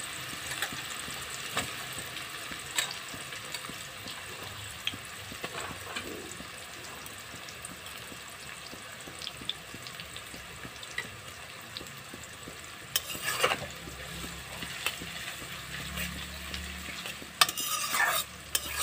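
Chopped onion and bitter gourd fry in a pan with a continuous soft sizzle, while a spatula scrapes and stirs at an irregular pace throughout, now and then with sharper clatters.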